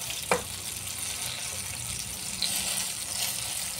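Slices of eggplant fry in oil in a pan, giving a steady, fairly quiet sizzle with a brief clink near the start and no voices.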